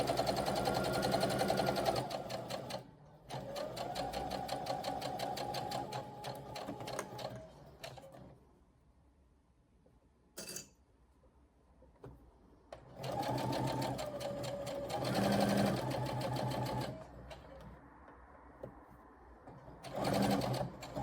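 A sewing machine stitches a fabric catnip blanket in several runs of rapid, even mechanical whirring, each lasting a few seconds, with quiet pauses and a brief click between them.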